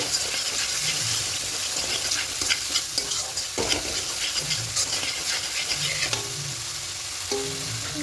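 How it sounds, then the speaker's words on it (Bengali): Spice masala frying in oil in a pan for a Bengali bhola fish tel jhal, stirred steadily with a continuous close sizzle and scraping strokes, no voices. "এবার খুব ভালো করে কষিয়ে নেব যতক্ষণ পর্যন্ত বাকি থেকে তেল ছাড়তে শুরু করছে ততক্ষণ অবধি কষিয়ে নেব"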